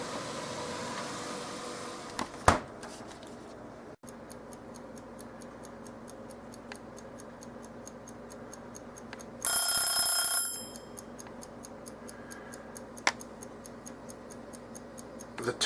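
A countdown timer ticks steadily and faintly through a quiet room for ten minutes, with a few scattered clicks and a brief burst of bright hissing noise partway through, no voices.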